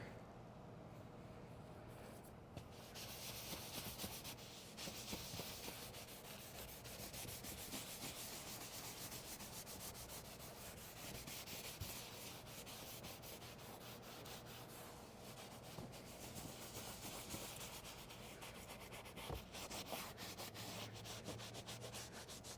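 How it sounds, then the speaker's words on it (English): A scrubber brush works over neglected leather car seats, a faint continuous rubbing and scratching texture that rises and falls steadily throughout. "And then we can break out the scrubber."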